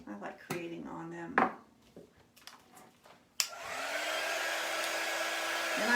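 Heat tool blowing hot air to warm wax on a wooden board, a steady roaring whoosh switched on partway through and held constant after a few light handling knocks and taps.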